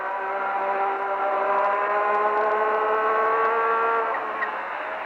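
Formula 1 car heard onboard at about 150 mph in 4th gear through a sweeping right-hander at sunset, a steady, sustained high-pitched engine whine holding nearly constant pitch, loud and close with no talk.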